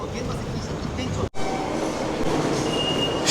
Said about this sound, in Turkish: Metroya geçtik ve yolculuğumuz başlıyor sonunda dostlar.